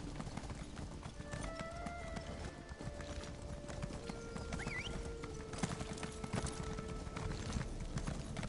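Horse hooves clip-clop steadily across the ground in The Elder Scrolls Online, a continuous walking rhythm with an occasional whinny and faint game ambience underneath.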